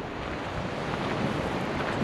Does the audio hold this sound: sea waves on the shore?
yes